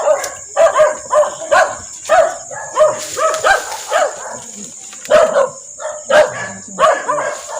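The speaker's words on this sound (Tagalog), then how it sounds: "may mga aso nakawala" Several loose dogs bark repeatedly during a traditional electric fishing outing, sharp overlapping yaps and woofs coming in rapid bursts, fairly close, over a steady high-pitched whine.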